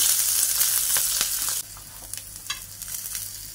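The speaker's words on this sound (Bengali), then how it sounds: "এই বেগুনটাকে আগে দিলাম তেলের মধ্যে" Eggplant dropped into hot oil with black cumin and green chilies crackles in a loud, hissing sizzle that suddenly drops to a softer, sputtering fry.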